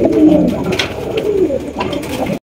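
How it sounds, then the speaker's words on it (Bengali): Danish pigeons coo in a close, clear series of soft throaty calls, with several rising bursts and no talking over them. "আরো এক জোড়া ডেনিশ কবুতর মাশাআল্লাহ"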